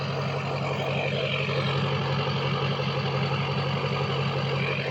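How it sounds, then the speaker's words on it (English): A Cummins diesel truck engine idles steadily up close, a constant low rumbling drone with an even mechanical clatter and no pauses. "right now it just sounds like a freaking Cummins engine."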